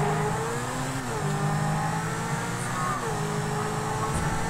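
Car engine revving steadily during donuts in a video game, a continuous close, loud whine with rising and falling pitch and no pauses.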